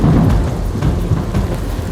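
Heavy rain pours in Radhanpur, Patan, during the Gujarat floods, a loud close hiss with low rumbling thunder beneath it and no voices.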